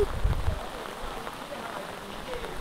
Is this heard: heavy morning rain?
yes